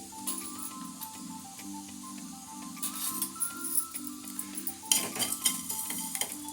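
Fenugreek seeds roasting in a pan for mango pickle crackle softly and hiss, with a spoon scraping and stirring in a steady rhythm over a low background hum.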